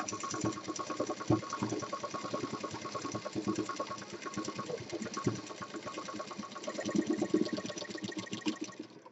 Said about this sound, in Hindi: तो इसको हम सीधा लाएंगे और सिल देंगे।